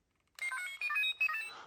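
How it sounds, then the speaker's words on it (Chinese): Electronic button tones from a DX Kamen Rider Faiz Blaster cannon toy, three short melodic chirps in quick succession, clear and close with nothing else heard. "和 DX 的这个手机上面的按键声音都是一样的"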